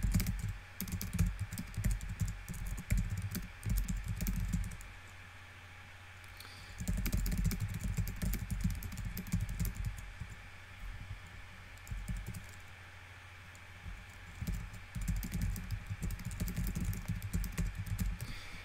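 Typing on a computer keyboard in bursts of quick, soft key clicks, with short pauses between runs of keystrokes, fairly quiet and alone with no talking.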